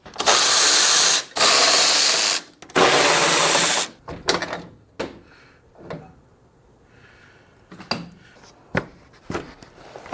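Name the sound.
power tool removing a truck bed grab handle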